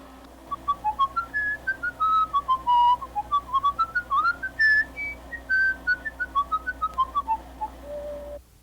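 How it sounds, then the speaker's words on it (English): A longer whistled melody with many quick notes and a few sustained ones, wandering in pitch before settling on a final held tone; close, no talking. "And whistle again"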